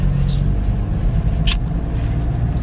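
A car driving slowly out of an exit road near a children's playground, a steady low engine and road rumble throughout, with a brief faint click in the middle and no speech.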